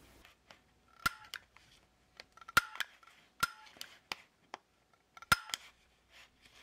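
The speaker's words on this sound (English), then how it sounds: "To punch your card, just make sure the tip of your hand punch matches the little dot on the" A hand punch snaps through a blank knitting machine punch card in sharp, isolated clicks, four stronger ones spaced irregularly among smaller handling taps, close and quiet.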